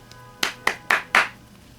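Four sharp hand claps in an even, quickening rhythm, close and fairly quiet against a faint background hum, with no talking.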